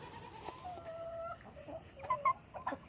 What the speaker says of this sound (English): But here are the new chickens,